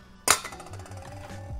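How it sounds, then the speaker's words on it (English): Large ice cubes drop into a double old fashioned glass for a blueberry caipirinha, one bright clinking hit followed by faint settling clinks, close and alone. "Now I'm going to add ice straight to my double old fashioned glass,"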